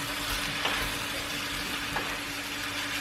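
Bay leaf stirred into an Andalusian cuttlefish stew with onion in a pan, a steady broad sizzle filling the background with two soft scrapes of a utensil, close and continuous.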